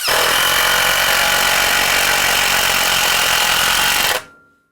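A Genesis 12v lithium-ion impact driver hammers into a hard spot with a loud, continuous rattling drive at close range, running steadily for about four seconds before cutting off abruptly.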